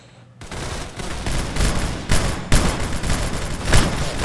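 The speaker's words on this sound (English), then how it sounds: "Oh, no, someone's shooting me." Rapid game gunfire in Roblox Arsenal crackles in dense bursts and volleys, loud and continuous after a brief quiet start, with no talk over it.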